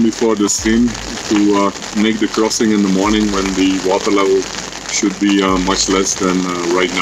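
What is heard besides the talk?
ferocious glacial stream roaring outside the tent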